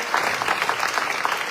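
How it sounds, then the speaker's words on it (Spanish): A church congregation gives a strong round of applause during a sermon, loud, dense clapping from many hands sustained evenly without speech on top. "Denle un fuerte aplauso al Señor."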